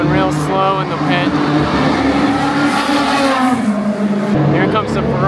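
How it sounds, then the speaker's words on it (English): Ferrari endurance race car rolling slowly through the pit lane at a Le Mans hypercar race at Circuit of the Americas, a loud steady engine drone with other cars and crowd noise around it. "Notice the Ferrari right there, it's going real slow in the pit."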